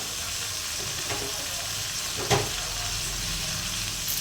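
Steady frying sizzle of tomatoes going into a hot pan for an egg fry with meat, with a brief louder splash and crackle partway through and faint clinks around it.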